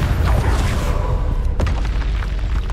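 A Confringo fire-blast spell in Hogwarts Legacy bursts with a heavy booming impact, a deep sustained rumble with a sharper crack midway, loud and close.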